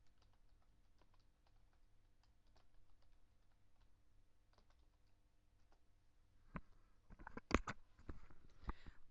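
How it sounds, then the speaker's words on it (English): Keys clatter on a computer keyboard in a quiet room, soft scattered taps at first, then a brisker burst of louder, sharper keystrokes near the end. "we're going to type in host name and customer switch."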